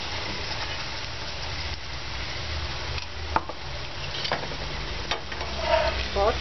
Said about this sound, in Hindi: और पराठे को हमेशा तेज आंच के ऊपर ही सेकें ताकि अच्छा सा क्रिस्पी हो जाए।